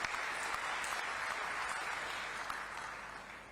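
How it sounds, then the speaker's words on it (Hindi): Steady, dense applause from a crowd at a live political rally, continuous and even for a few seconds with no speech over it. "पुरंदर मिश्रा जी के लिए जोरदार ताली"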